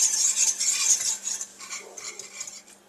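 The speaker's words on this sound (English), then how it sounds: "I'm just going to continue to whisk it until it's nice and thick" A whisk scrapes and clinks steadily against a pot of simmering spicy caramel sauce, a close, quiet rhythmic metallic stirring with no talk.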